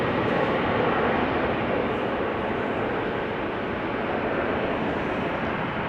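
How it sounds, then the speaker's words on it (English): Singapore Airlines cargo aircraft at Amsterdam Schiphol Airport gives a steady, loud broadband engine roar that holds constant throughout, dense and close with no pauses or voices. "Singapore Airlines cargo."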